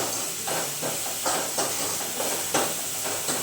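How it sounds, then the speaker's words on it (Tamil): Onions sauté in a pan with a dense, loud hiss, swelling in short regular surges as they are turned, close up with no talk. "பார்த்தீங்கன்னா நம்ம வந்து வெங்காயம் வந்து வதங்கிக்கிட்டே இருக்குது"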